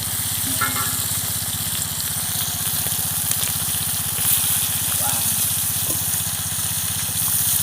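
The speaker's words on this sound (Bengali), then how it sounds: "কড়াইয়ের মধ্যেও লাফাচ্ছে খুব সাবধানে এই মাছ ভাজা" Koi fish frying in oil in a wok, a steady loud sizzle with a low rumbling hum beneath and occasional brief pops and splashes as the fish jump.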